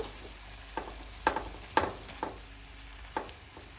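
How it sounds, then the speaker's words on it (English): Canned pork and vegetables with fajita seasoning sizzle softly in a pan while a utensil stirs them, giving several distinct scraping taps over a quiet frying hiss. "So let's get this all stirred up."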